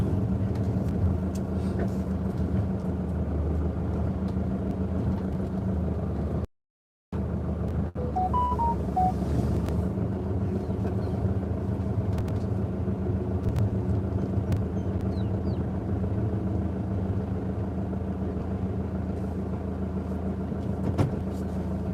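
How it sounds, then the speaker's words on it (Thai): A car engine rumbles steadily from inside the vehicle as it turns around to park at a garage, a low continuous drone with one brief dropout and no talk. "เดี๋ยวแป๊บนึงเดี๋ยวผมจอดรถกัน ผมพามันกลับรถอยู่"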